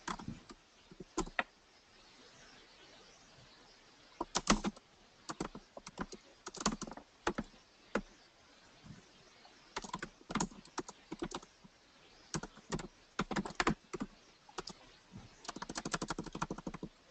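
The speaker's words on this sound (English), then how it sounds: "I'm just typing that into the chat box now" Keystrokes on a computer keyboard in bursts of rapid clicks with short pauses between, close and crisp against a quiet room.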